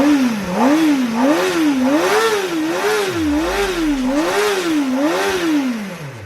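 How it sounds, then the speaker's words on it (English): Kawasaki ZX4R inline-4 motorcycle engine roaring loud and close, its pitch rising and falling in repeated rev swells about once a second, with a brief low thump midway. "Or is it the roar of that high-revving inline-4 engine?"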